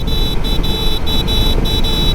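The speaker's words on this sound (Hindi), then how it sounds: "हॉर्न सुनिए" A 2025 Hero HF Deluxe Pro motorcycle horn beeps repeatedly in short, evenly spaced honks over a loud running engine and road noise on a highway in daytime.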